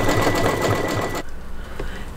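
Single-needle embroidery machine sewing satin stitches on a cross design, a loud rapid mechanical whirring with a steady pulsing beat, close, stopping abruptly after about a second and leaving a quieter hum.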